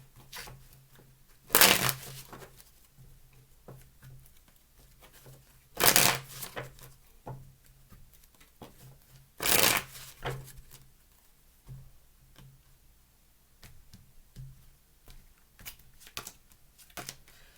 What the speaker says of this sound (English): 3 shuffles and a deck split.